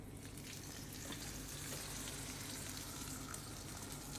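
Thin bacon slices sizzle steadily in a hot pan as the fat renders, a constant crackling hiss with small pops.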